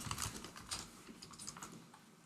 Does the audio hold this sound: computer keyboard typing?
yes